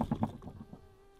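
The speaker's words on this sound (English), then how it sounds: "Well, it looks like the bees have joined us." Bees buzz close by during late-summer cooking and preserving of wild mushrooms and raspberries: a brief, soft, steady drone follows a few low knocks.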